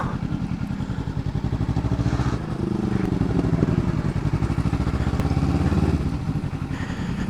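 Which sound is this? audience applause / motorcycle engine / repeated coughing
motorcycle engine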